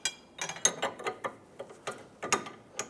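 Ratchet wrench with an 18mm socket loosening the rear end link bolt on a 2008–2013 Nissan Rogue, a quick series of close, crisp ratcheting clicks in irregular bursts, fairly quiet and with no voices.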